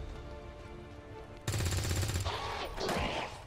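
Soldier firing in XCOM 2: after a quiet ambient stretch comes a loud, rapid burst of automatic gunfire with rattling impacts, followed by a second noisy crash of fire.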